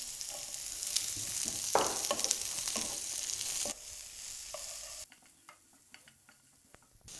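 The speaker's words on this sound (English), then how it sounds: "Now I'm going to add in some onions to it." Sliced onions fry with green chilies and garlic in a pan for a soya chunk curry, giving a steady close sizzle with scraping stirs through the first half, then a quieter stretch of scattered utensil clicks and light crackle.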